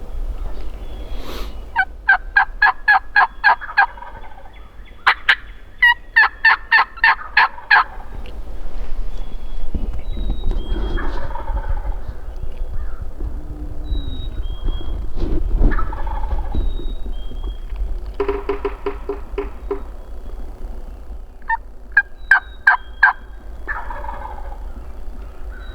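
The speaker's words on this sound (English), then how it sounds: "I had to go back and count the gobbles on my lav mic." Wild turkeys gobble on Minnesota public land during a hunt, several rapid rattling bursts repeating at intervals, some close and loud, others softer, with faint rustling and thumps between calls.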